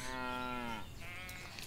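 A cow in the video game Everdream Valley gives a single loud, drawn-out moo that ends abruptly, followed by quieter in-game farm ambience.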